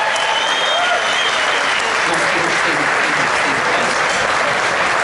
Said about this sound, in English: Can I get yet another round of applause